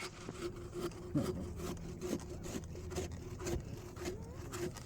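A hand saw cuts through the trunk of a Christmas tree with repeated rough back-and-forth strokes, moderately close and rhythmic but fairly quiet, with a constant low hum underneath.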